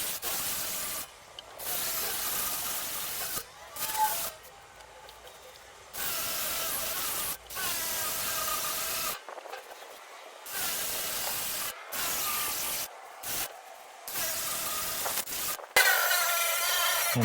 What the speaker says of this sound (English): I'll be using my drill with the wire brush attachment.